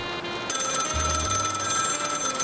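An old telephone bell starts ringing abruptly after a brief quiet hiss, then keeps trilling loudly and continuously, with a low hum underneath.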